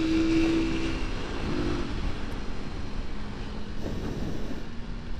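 A 2008 Honda Megapro Primus motorcycle, unused for two years, runs with a steady low engine drone and mild swells in revs, heard fairly close without speech.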